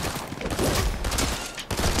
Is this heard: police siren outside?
no